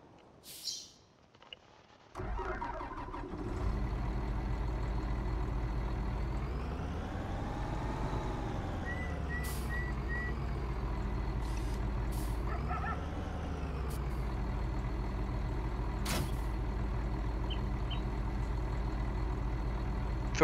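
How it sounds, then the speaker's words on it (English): Tractor engine in Farming Simulator 19 with a Kaweco Profi 11.20 fill unit, a steady loud diesel drone that starts after a brief pause, rising and falling in pitch as the throttle changes, with occasional hiss and beeps. "So let's jump into the tractor here and hook it up."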